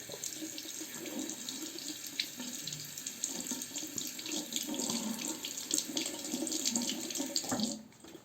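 A razor is rinsed under a steadily running tap, water splashing continuously into a sink for several seconds, fairly close and clear, with no talk over it.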